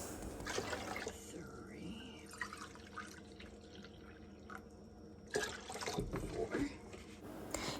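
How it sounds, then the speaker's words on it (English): White vinegar poured into a pot of water, a steady splashing trickle close by with drips and a brief louder gush near the end. "I'm going to add 4 cups of white vinegar to this"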